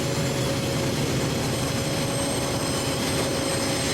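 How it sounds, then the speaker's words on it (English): A CP Rail train rumbles steadily in the distance with a faint metallic whine, a continuous low roar holding at the same level throughout, in North Fond du Lac. "The train is coming, CP rail is coming into North Fond du Lac."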